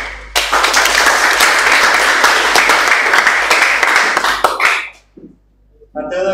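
Students applauding in a classroom, loud, dense clapping that holds steady for about four seconds, trails off into scattered claps, and gives way to a voice speaking.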